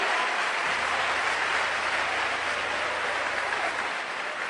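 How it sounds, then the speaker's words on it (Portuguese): A church congregation applauds during a sermon, a broad continuous wash of clapping that fills the clip at a steady level. "É para aplaudir, é?"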